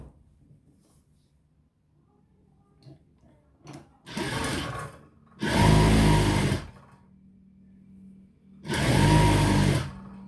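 A sewing machine sews the side seam of a kameez in three separate close runs, each a few seconds long, with quiet handling between them.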